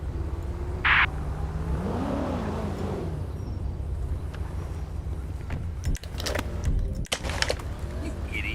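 Sports car engine in Grand Theft Auto 5 revving and accelerating at close range, a steady drone with rising pitch sweeps, joined by brief sharp bursts near the end and a voice over the motor.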